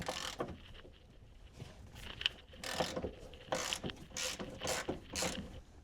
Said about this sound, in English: I'm going to be going with the Pittsburgh 3/8 drive flex head ratchet from Harbor Freight.